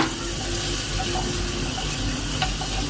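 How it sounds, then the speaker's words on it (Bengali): Chicken being stirred in a pan on a stove, a steady wet sizzling and scraping texture that runs continuously for a few seconds, fairly close, with no talking. "চিকেনগুলো খুব ভালোভাবে আর কি নেড়ে নিচ্ছি"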